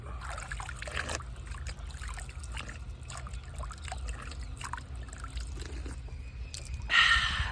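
Water flows through an irrigation channel on a farm, a steady close trickling and gurgling with a brief louder splash near the end.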